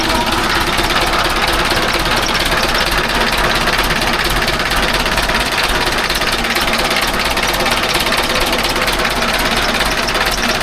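A Ford farm tractor's diesel engine runs loud and close, a continuous rapid knocking chug that holds steady without letting up.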